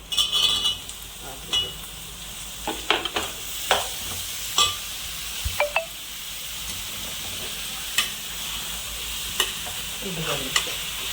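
Cucumber pieces, onions and green chillies fry in a pan with a steady sizzle, while a spoon scrapes and clinks against the metal in irregular strokes, close and fairly loud, without any talking.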